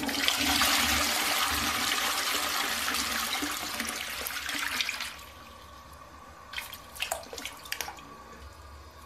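Household toilet flushing: a loud rushing surge of water for about five seconds that drops to a quieter trickle with scattered drips and gurgles, close by and without voices.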